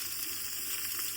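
Beef browning in a pan gives off a soft, even sizzle and hiss that stays faint and steady throughout, with no voices.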